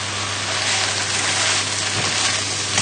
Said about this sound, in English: give your spinach a stir